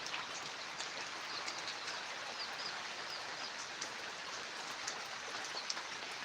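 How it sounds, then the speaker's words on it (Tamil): Heavy rain falling in a rural spot in Karnataka, a dense, steady hiss of drops that holds throughout at an even level, with no voices. "பாருங்க எவ்வளோ ஒரு மழை"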